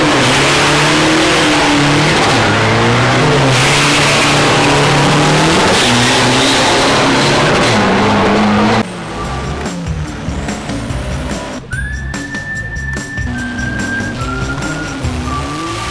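Racing pickup trucks at a Bangkok, Thailand motorsport event rev their engines loudly and continuously, with a steady roar and rising, falling revs, then a quieter stretch where higher engine whines climb repeatedly in the distance.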